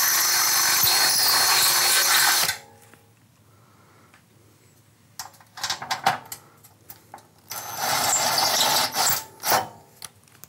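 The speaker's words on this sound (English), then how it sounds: "drill the block through the pre-punched holes of the mainframe" A power drill grinds loudly into a concrete block through the pre-punched holes of a sliding glass door frame, stops, then a few clicks and short bursts lead into another long grinding run.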